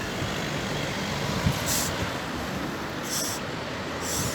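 S-Bahn trains rolling past near Berlin-Schöneberg station, a steady rumbling roar of rail traffic with a few brief high screeches of wheels on track, heard from close by with no voices.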